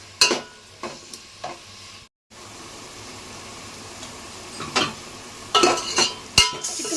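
Ginger-garlic paste frying with chicken in a pot: a steady sizzle punctuated by periodic scraping stirs of a spoon, with a brief drop to silence partway through and louder stirring bursts toward the end.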